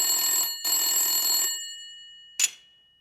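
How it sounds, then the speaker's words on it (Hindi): A telephone bell rings in two long electronic bursts, followed by a brief final chirp, loud and close with nothing else around it. "उधर लाइन चाचा चौधरी के टेलीफोन से भी मिल जाती है"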